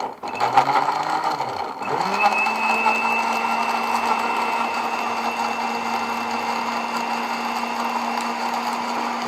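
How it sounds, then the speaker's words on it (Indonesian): An electric blender whirs up to speed and then holds a steady high motor whine while blending chopped grapes with garlic, loud and continuous throughout. "Anggur yang sudah dipotong-potong ini baru kita blender bersama dengan bawang putih."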